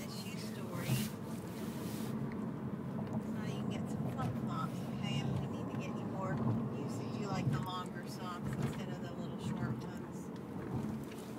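Steady low road and engine rumble of a car driving, continuous and fairly loud throughout, with people talking over it inside the vehicle.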